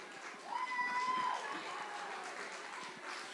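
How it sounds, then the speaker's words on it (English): A room of guests at the Amanda Hope Night of Hope charity gala auction applauds a winning bidder. The clapping is soft, diffuse and continuous, with a brief whistle-like tone rising above it early on. "Give her a round of applause."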